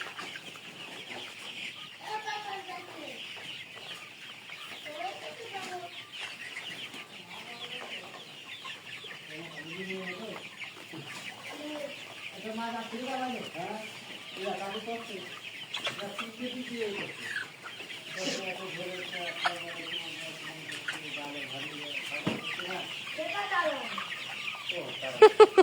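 Tiger chickens on a farm cluck and chatter throughout, with many birds calling near and far in overlapping bursts over a faint background hum.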